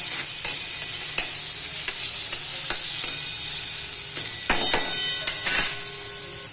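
A vegetable bhaji with chili powder sizzles steadily in a pan while a spoon stirs it, bright frying hiss throughout with occasional scraping knocks, close and loud.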